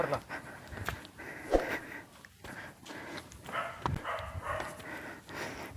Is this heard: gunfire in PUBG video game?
no